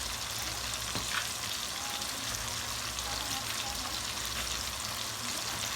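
Fish and chopped ingredients simmering together in a pot for a meat pie, giving a steady, soft bubbling sizzle with a low hum that runs evenly throughout.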